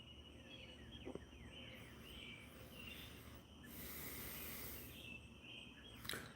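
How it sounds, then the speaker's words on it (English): Faint birdsong carries outdoors near a porch: sparse, thin chirps and short trills scattered over a soft, steady background hush, with no talking. "Listen to the birds sing"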